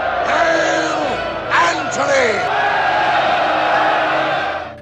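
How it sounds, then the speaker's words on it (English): A crowd of soldiers roars and cheers, with bellowing shouts swelling in waves. Loud, dense voices keep going throughout. "Amid the roaring cheers of his soldiers, Antony ascended to the pinnacle of power. The crowd chanted his name, shaking the heavens."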